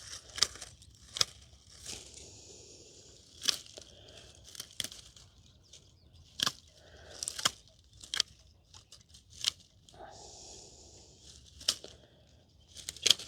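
Garden shears snip through overwintered true blue lavender plants in a series of sharp, irregular cuts and rustles, some in quick pairs, with quiet gaps between them.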